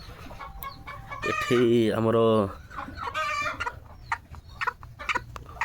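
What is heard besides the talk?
desi chickens clucking on a farm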